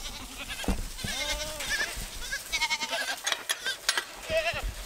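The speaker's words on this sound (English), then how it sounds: "we got a big goat on the play set" Baby goats and a big goat on a farm play set bleat in short wavering cries, several calls close by in quick succession with outdoor rustle around them.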